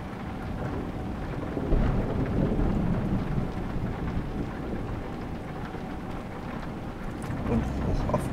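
A night thunderstorm on a steep mountain road in Romania, with steady heavy rain hiss and deep rolling rumbles of thunder swelling and fading throughout, loud and continuous, with no voices.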